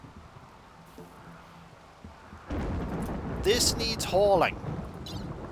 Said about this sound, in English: Okay, there's a rainy thunderstorm here.